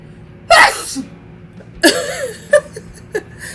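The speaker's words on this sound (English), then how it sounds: "That sneeze came out of nowhere." A single sharp, loud sneeze up close, followed by a few softer breathy sounds and small vocal noises.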